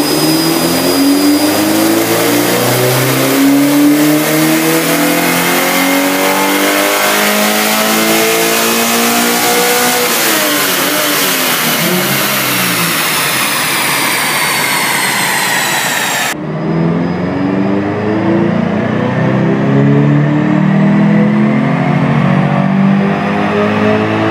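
A Scion FRS fitted with an electric turbo revs hard on a dyno, the engine note climbing and falling through repeated sweeps, loud and close and continuous, with a brief cut partway through.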